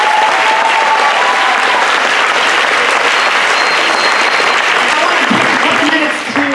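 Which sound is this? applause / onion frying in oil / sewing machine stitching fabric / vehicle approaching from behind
applause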